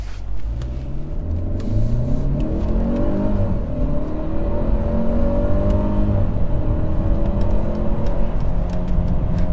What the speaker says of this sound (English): We're gonna check out the merging onto the highway and see how good the acceleration is